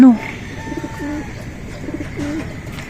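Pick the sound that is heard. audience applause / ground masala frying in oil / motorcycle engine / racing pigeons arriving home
racing pigeons arriving home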